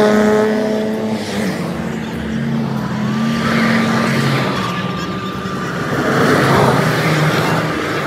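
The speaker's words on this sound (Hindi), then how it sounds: "तो ये जी जो चंद गाड़ियाँ जलसे से पहले गुजर रही हैं" Cars of a rally convoy on a road ahead of a political long march in Pakistan, engines droning and passing steadily at moderate distance with a continuous rising and falling roar and no talk over it.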